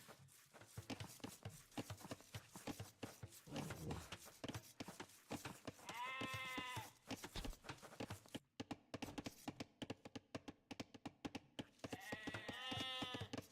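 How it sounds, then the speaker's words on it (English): Sheep bleat repeatedly in an Age of Empires-style real-time strategy match on a forest map, several wavering calls heard among busy game effects, hoof clip-clops and clicks. "Sheep are bleating all over the place."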